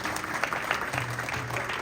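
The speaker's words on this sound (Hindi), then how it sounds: "let's have a big round of applause for the entire team" An indoor audience at a Mother's Day celebration in a Surrey temple claps steadily, a dense, even wash of applause that fills the whole short stretch.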